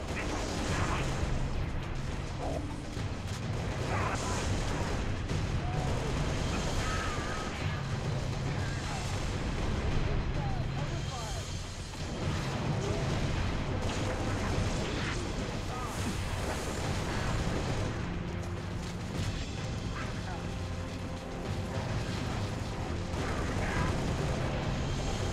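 Dense, continuous gunfire and booming explosions from a Halo: Reach match on PC, layered into a loud battle din, with a player talking over the action at points.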